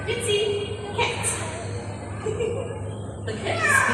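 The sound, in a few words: parrot imitating a cat meow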